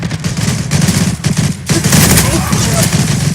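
A Tommy gun fires in the online shooter Zula in dense rapid bursts, loud and close, with a short pause partway through and a voice talking faintly underneath.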